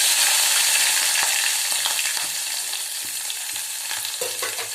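Mustard seeds, cumin, chopped green chillies and onion sizzle and fry in a hot pan, a steady loud crackle with stirring scrapes throughout.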